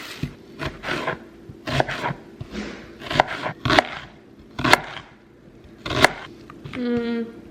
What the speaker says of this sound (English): I'm gonna chop up 1 whole yellow onion